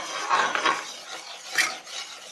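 A spoon works through thickening homemade tomato sauce in a pan, giving soft scraping and rasping strokes in an uneven rhythm, close and fairly quiet with no voices.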